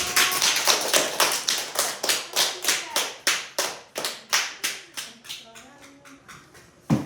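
A fourth-grade class claps together to close a science lesson, a steady run of sharp, evenly spaced claps that gradually thins and softens toward the end.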